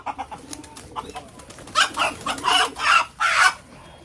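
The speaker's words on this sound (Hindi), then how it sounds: "ये काला मुर्गा है, ये रेड मुर्गा है।" Kadaknath and desi roosters clucking nearby, a few soft scattered clucks and then a louder burst of harsh, rapid calls, with no talking.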